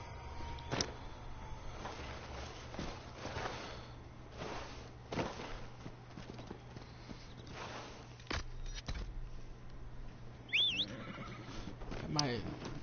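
A horse whinnies in the fantasy game Dragon Age: Inquisition, a short high neigh near the end over quiet ambient game sound, with soft hoof and movement noises and occasional talk.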